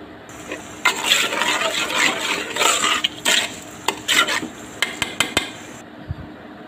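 Rice with spices and salt being fried in a pot for Eid biryani: repeated scraping and stirring strokes with sizzling, in uneven bursts with short pauses, ending in a few sharp taps of the spoon.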